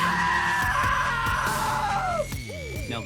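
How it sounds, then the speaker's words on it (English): A long, loud scream from a character in the video game What Remains of Edith Finch, sustained for about two seconds before breaking off, followed by shorter wavering cries over steady game background sound. "Now that was a great scream."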